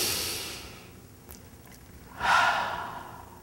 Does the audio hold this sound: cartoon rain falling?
no